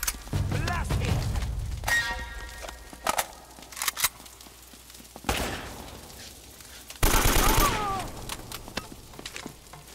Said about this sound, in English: I'm gonna shoot wildly, Mitchell!